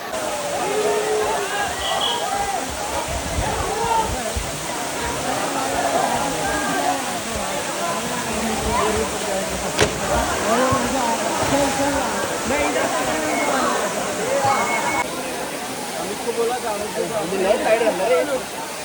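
The Kalmandavi waterfall roars as a steady, broad rush of falling water throughout, with people talking over it.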